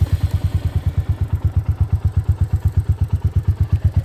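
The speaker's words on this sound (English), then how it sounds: "Let's listen to the exhaust note of the Meteor 350." A Royal Enfield Meteor 350 motorcycle idles nearby with a steady, rapid thumping exhaust pulse, even and loud throughout.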